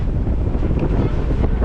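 A steady, low rush of wind sweeps across the Vagamon hills, buffeting the microphone continuously at close range for a brief moment, with no talk.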